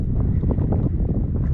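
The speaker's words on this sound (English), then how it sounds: "Hopefully I can go this way and it won't be so windy." Gusty wind buffets the microphone with a loud, rough low rumble that rises and falls throughout.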